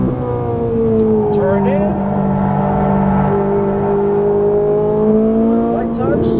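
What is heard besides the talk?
Ferrari 458 Italia engine revving, downshifting on track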